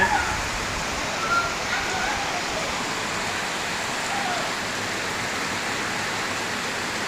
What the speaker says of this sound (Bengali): এই যে এখানে বৃষ্টি হচ্ছে অনেক বৃষ্টি হচ্ছে